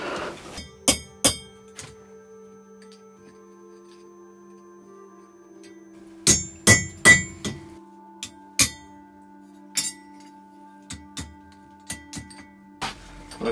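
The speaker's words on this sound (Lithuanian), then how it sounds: "dabar reikia prakirsti skylutę" Hammer strikes on a metal punch cut a nail hole through a handcrafted handle, sharp metallic clinks landing in irregular bursts with pauses between, close and loud over a faint steady hum.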